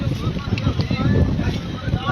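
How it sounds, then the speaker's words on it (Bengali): A motor launch cruising out onto a river in the Sundarbans, a steady low engine rumble mixed with rushing wind and water noise, loud and continuous. "আপাতত কৈখালি থেকে লঞ্চ ছেড়ে দিয়ে নদীর মাঝখানে চলে যাচ্ছি"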